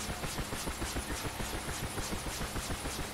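The inverter in a UH-1H Huey helicopter in the DCS flight simulator emits a steady, dense electrical whine with a rapid pulsing flutter, loud and continuous.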